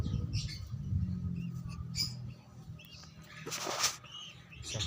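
Pigeons call from a loft outdoors in a low, throaty cooing murmur, with a few brighter flutters and chirps rising above a steady rumble of background noise.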